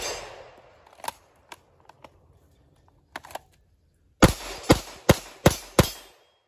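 Five loud, sharp gunshots fire in quick succession at targets during a tactical belt test, following a few faint clicks and handling noises earlier.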